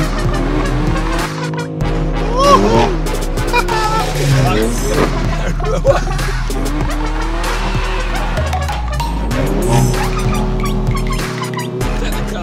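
A car is driven hard with the clutch in use, its engine revving and tires squealing in repeated bursts, loud and close, while people talk and call out over it throughout.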